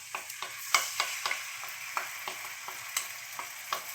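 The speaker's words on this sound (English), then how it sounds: "We can add chili paste that we have." Blended chili paste fries in a hot pan for Balinese-seasoned chicken, a steady sizzle broken by regular quick scraping strokes of a spatula, close and moderately loud, no talking.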